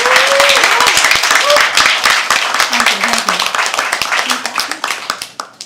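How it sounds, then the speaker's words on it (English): An audience at a live poetry open mic claps steadily and loudly for several seconds, dense overlapping hand claps, while a host speaks over the applause, which thins out toward the end. "Come on, keep clapping, keep clapping, keep clapping."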